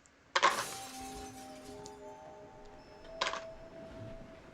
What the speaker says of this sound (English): he was awakened by the sound of crashing glass.